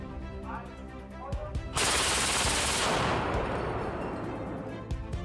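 A naval 35 mm Oerlikon Millennium gun firing on a frigate: a sudden, continuous roaring burst of rapid fire lasting about a second, then a long rumbling decay, preceded and followed by scattered sharp clicks and thumps.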